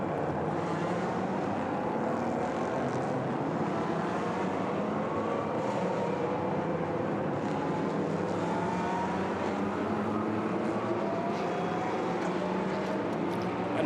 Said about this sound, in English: the cars and the engines particularly sound absolutely glorious